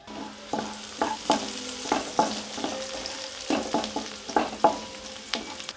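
Chopped onion and green chillies frying in ghee and oil, a spoon stirring with repeated clinks over a steady close sizzle, no talk.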